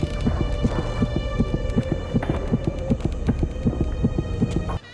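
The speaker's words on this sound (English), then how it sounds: "his heartbeat is going through the roof" Steady thumping heartbeat effect from a Goosebumps episode, a loud, even double-beat pulse repeating over a constant low hum, with no talking.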